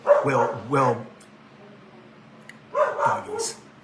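A dog barks in two short bursts of a few yips and woofs, fairly close and loud, with a quiet gap between them and a faint background hum.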